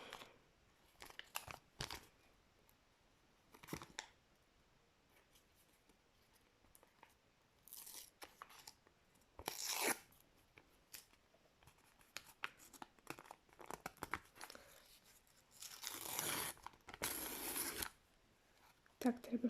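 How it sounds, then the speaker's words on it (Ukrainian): A small plastic packet is being opened by hand, with sporadic crinkling and tearing bursts spread over about twenty seconds. Quieter gaps separate the bursts, and the packet noise grows louder and longer toward the end. "Так, давайте відкриємо цей пакетик."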